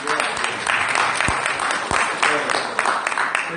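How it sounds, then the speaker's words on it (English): A church congregation claps during a sermon, a lively burst of many hands at close range with a few sharper individual claps and voices mixed in. "Appreciate you clapping on cue."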